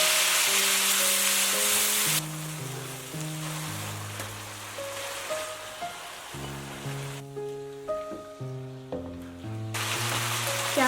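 Tomatoes tipped into hot oil in a wok, hissing and sizzling steadily like heavy rain throughout, with a bright burst at the start and a melodic background tune playing over the frying.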